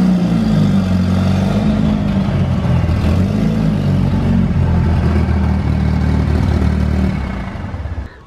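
A Mitsubishi Eclipse Turbo engine drones loudly from inside the car as it is driven, a deep steady rumble that holds for several seconds before easing off near the end.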